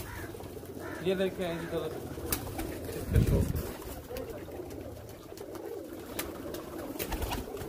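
Racing pigeons perched together in a loft, with low cooing coming through under close male speech and some handling bumps and rustling nearby.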